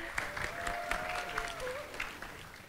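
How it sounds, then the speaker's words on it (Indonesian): Youth congregation at an online church worship service applauding together, a soft, steady patter of many hands at moderate distance with a few sharper claps, a sustained tone running beneath it. "Tepuk tangan semuanya"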